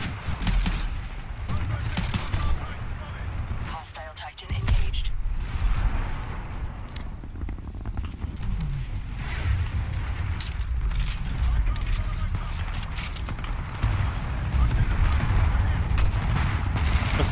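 Pistol gunfire in Titanfall 2, Wingman and Mozambique handguns, with rapid repeated sharp shots across a busy firefight, a short lull near four seconds, then sustained loud shooting mixed with game noise and occasional voice.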